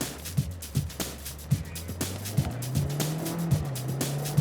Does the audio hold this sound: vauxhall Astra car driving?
yes